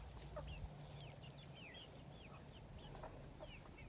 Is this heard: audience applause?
no